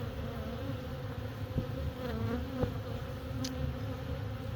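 Honey bees from a late autumn swarm colony hum steadily and faintly at the hive, a dense, even buzz with a few soft clicks.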